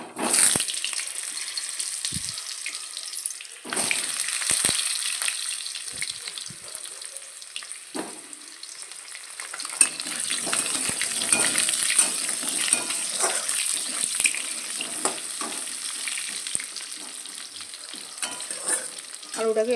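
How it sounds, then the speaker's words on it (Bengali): Potatoes sizzle and fry in spiced oil in a pan, a crackling sizzle punctuated by scraping stirs and clatter, close and moderately loud throughout with no speech. "এবার এই তেলের মধ্যে আমি আলুগুলো দিয়ে দেবো।"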